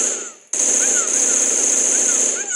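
Rapid automatic gunfire from the video game Milkchoco starts abruptly after a brief quiet moment and keeps up a loud, continuous rattling burst almost to the end, with no voices over it.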